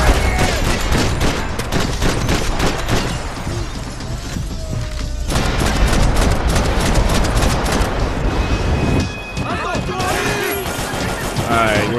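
Dense SMG gunfire in Max Payne 3, a loud continuous barrage of rapid shots and crashes running through the whole stretch, with a brief dip near the end before the firing resumes.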